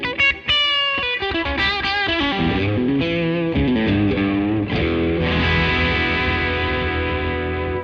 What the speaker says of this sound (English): That's position 3 with a little distortion